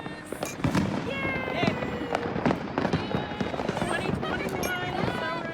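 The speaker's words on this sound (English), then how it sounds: "You can hear the fireworks in the background because people are still popping them." New Year's fireworks pop and crackle outside in a rapid, irregular string of sharp bursts, some loud and near, others farther off, while a person cheers and voices talk nearby.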